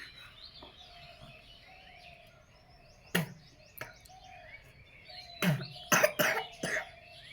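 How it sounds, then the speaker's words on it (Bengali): A child coughs a handful of times, with one sharp cough, then a quick cluster of harsher coughs near the end, set against a quiet room where birds chirp faintly in the distance. "খুব কাশি হয়েছে জ্বর হচ্ছে"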